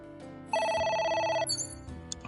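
A telephone rings in the video game Ai: The Somnium Files: a bright, rapidly trilling ring lasting about a second, then a few short electronic tones, clear and alone.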